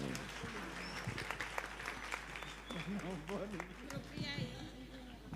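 Applause from an audience at an Indonesian religious gathering welcoming Kiai Marzuki, clapping mixed with crowd noise and overlapping talk, a voice speaking over it toward the end.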